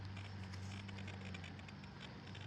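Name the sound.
rain starting to fall hard outdoors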